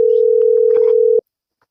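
A steady telephone dial tone plays loud and close for just over a second while a call is being placed, then cuts off abruptly into silence.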